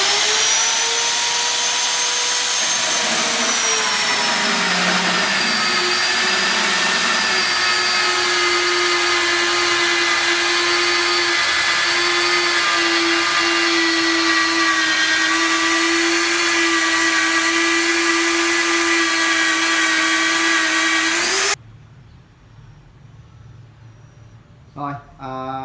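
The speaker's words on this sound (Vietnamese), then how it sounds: "hôm nay thì mình dùng cái mũi khoan từ Unifast, nhưng mà dùng để khoan lỗ bằng cái máy đông chen nhé." A Dongcheng DJC30 magnetic drill bores a hole with a Unifast annular cutter bit, a loud steady high-pitched whine with grinding that runs for about twenty seconds before cutting off abruptly into near quiet.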